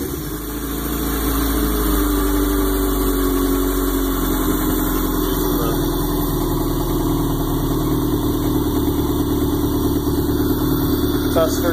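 A Subaru engine swapped into a VW Bay Window Bus runs steadily on a test stand with a freshly made wiring harness, a loud, even idle hum holding close and constant throughout.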